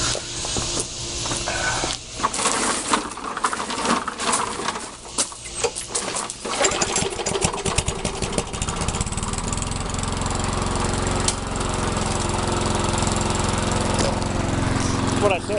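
A Poulan push lawn mower, primed after its gas was drained, cranks with sputtering pulls and ratcheting mechanical clatter, then catches and settles into a loud, steady engine drone that runs to the end, with faint birdsong behind.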